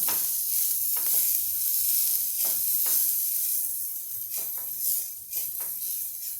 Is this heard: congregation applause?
no